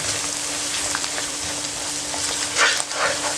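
Dal fries in a karahi with a continuous close sizzle and some faint stirring, building to a louder hiss near the end.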